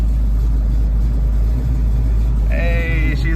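A Pontiac Firebird engine idles and putters loudly in first gear, a heavy low rumble that runs throughout, with a brief high whining sound joining near the end.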